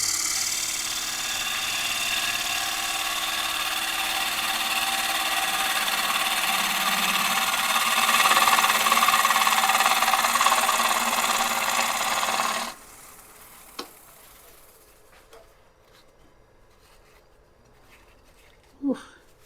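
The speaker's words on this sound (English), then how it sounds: "so we'll take a finishing cut with the smaller gouge" A wood lathe spins while a smaller gouge takes a finishing cut, giving a continuous loud rasping hiss that stops abruptly, followed by near-silence and a couple of faint knocks.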